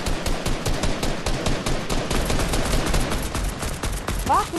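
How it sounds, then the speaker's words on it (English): Rapid, continuous automatic gunfire from a Fortnite match, dense bursts of sharp shots packed close together for several seconds, loud and near, with a short rising electronic chirp near the end. "I'm shooting him in the head"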